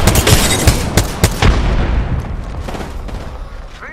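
A frag grenade blast in Apex Legends amid a flurry of sharp close gunshots, the heavy boom early on giving way to a rumbling, fading tail.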